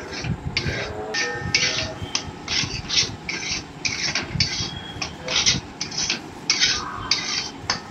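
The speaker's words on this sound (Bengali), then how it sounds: "ভালো করে নাড়াচাড়া করে নিচ্ছি মশলাটা।" Spices (turmeric, chili powder and garam masala) stirred in a cooking pan for a pointed gourd and prawn dish, giving steady rhythmic scraping and sizzling strokes, close and fairly loud, with no talking.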